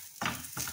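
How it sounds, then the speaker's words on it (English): Dry prawns and tamarind roasting in a dry pan while being stirred, giving two short bursts of scraping and light sizzling, close and fairly quiet, with no voices. "You have to continuously stir so that everything evenly gets roasted."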